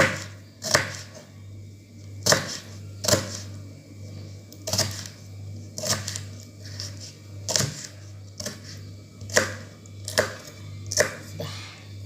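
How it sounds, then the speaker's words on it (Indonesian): Curly red chilies chopped into large pieces on a board, a sharp knife knock roughly every second against a steady low background hum. "Kita potong cabai keritingnya agak besar-besar ya"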